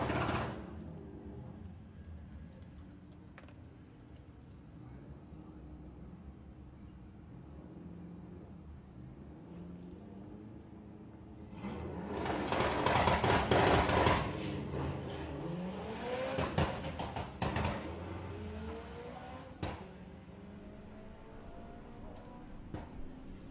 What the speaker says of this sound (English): Chris Waterhouse with the Audi A3 alongside Abby Tether with the Golf R.